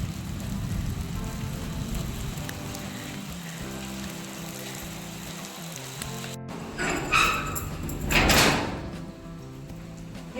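Rain falls steadily outdoors around a house surrounded by greenery, a continuous hiss that swells in a couple of louder bursts near the end, joined by a few clattering knocks.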